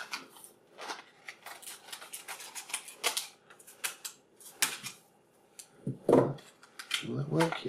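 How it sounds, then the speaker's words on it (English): Quick, sharp snips and clicks repeat irregularly as scissors cut through sealed plastic toy packaging, with a short burst of voice near the end. "he seems sealed, so I have to get him out with scissors."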